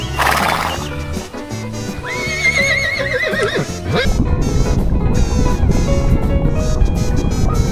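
A horse gives a loud, close neigh with warbling, falling whinnies, then hooves clip-clop steadily over a dense, noisy background for the rest of the clip.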